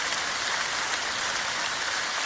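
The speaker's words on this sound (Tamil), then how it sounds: "என்ன இப்படி மழை பெய்யுது?" Heavy rain falling steadily, a dense even hiss of drops on surfaces, loud and unbroken from start to finish, with no voices.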